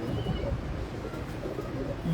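Soft, low pigeon cooing repeats a few times over a murmuring background, fairly faint and close by.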